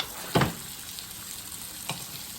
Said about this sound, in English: it's totally sizzling here